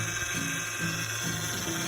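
A car engine low on power steering fluid gives off a steady, harsh whining drone with a faint pulsing grind underneath, heard close and continuous without any talk.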